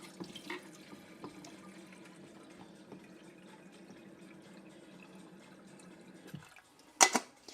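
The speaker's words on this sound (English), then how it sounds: "I'm going to put some water." Water runs steadily from a kitchen tap into a cooking pot, a close, moderate hiss that stops near the end, followed by a brief clatter.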